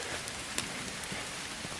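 Steady rain patters down on a forest trail in an open clearing during a distance hike, a soft continuous hiss with occasional louder drops close by.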